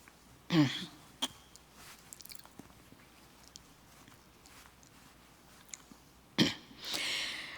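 Two short, sharp coughs, one near the start and another toward the end, with quiet rustling and shuffling in between.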